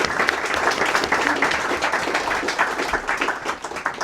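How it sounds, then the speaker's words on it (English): An audience at a film talk gives a round of applause, steady dense clapping from a roomful of people filling the whole stretch at an even, moderate level. "Another round of applause, please."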